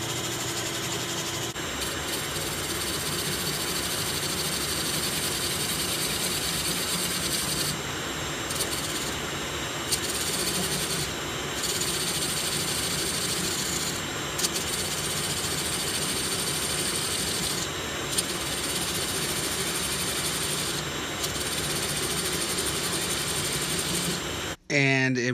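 Wood lathe spinning a piece of ash while a refurbished turning tool cuts it, a steady dense whirring and scraping drone that runs unbroken for over twenty seconds, close and fairly loud, with voices under it.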